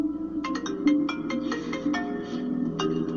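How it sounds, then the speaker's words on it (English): A telephone rings in a repeating electronic trill, a steady run of bright pulses over a low hum, for an incoming collect call from an inmate at a correctional facility. "On a scratchy phone line from behind bars, it's the accused calling, Daniel Holdsclaw."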